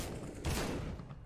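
Burst of gunfire in Counter-Strike on the Nuke map, with a loud onset and a dense, ringing stretch of shots for about a second. No one speaks.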